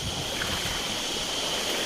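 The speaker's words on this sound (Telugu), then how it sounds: "అదిగండి వాటర్ ఫాల్స్ అండి ఇప్పుడు మేము అక్కడికి వెళ్ళి ఆడుకోబోతున్నాము" A continuous, even roar of water from a jungle waterfall among large rocks, heard from a short distance with no speech.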